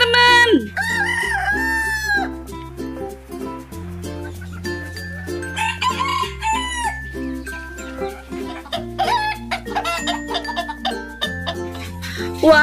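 Rooster crowing sounds from a toy rooster balloon repeat over a bouncy electronic music track with a steady bass line.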